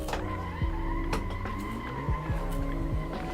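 Car tires squealing and skidding through minimal drifts in the Assetto Corsa racing game, with a steady engine drone and repeated sliding screeches rising and falling in pitch, loud and without talk.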